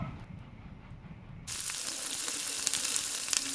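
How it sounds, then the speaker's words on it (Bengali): Fresh oil poured into a hot pan used for frying potatoes and pointed gourd bursts into a sudden broad sizzling hiss that continues steadily, close and moderately loud, after a quieter start. "ভাজা তেলের মধ্যে আর একটু তেল দেবো"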